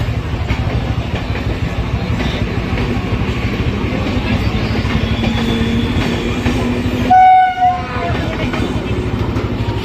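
An Eastern Railway train rumbles steadily close by, its wheels clattering, and a short horn blast sounds near the end.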